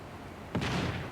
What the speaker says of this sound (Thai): ระเบิดทำงานแล้วค่ะพี่ระเบิดทำงานแล้วค่ะ